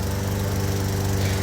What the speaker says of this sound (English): He's using a lawnmower as a microwave for people listening